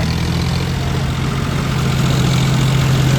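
A Massey tractor engine idles steadily nearby, a loud, even low rumble with constant vibration and no pauses.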